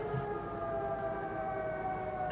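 Steady wailing siren signalling a base capture in a tank battle game, holding level tones continuously and loudly throughout, with no talk over it.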